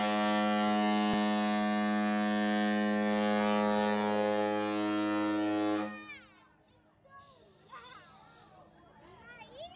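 A loud, sustained emergency alert horn on a Carnival cruise ship blares steadily for about six seconds and then cuts off abruptly. Indistinct crowd chatter and voices follow in the background.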